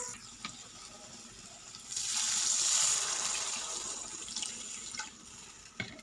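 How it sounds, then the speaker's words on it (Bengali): Water is poured into a cooking pot for an evening meal, a soft, brief splashing gush lasting about two seconds against a quiet kitchen background. "হ্যাঁ, এবার জল ঢেলে দেবো"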